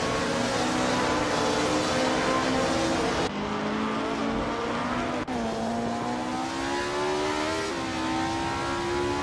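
A 1965 Honda race car in a racing video game roars steadily at high revs, its engine pitch climbing through gear shifts with brief drops between, loud and continuous with no talk.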